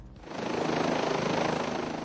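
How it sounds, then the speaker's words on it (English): An OH-58 Kiowa Warrior four-bladed military helicopter flies in Afghanistan, its rotor chop and turbine whine swelling in over the first quarter second, then holding loud and steady with a rapid pulsing beat. "OH-58 Kiowa Warrior helicopters in the 101st Combat Aviation Brigade are not your typical eyes in the sky."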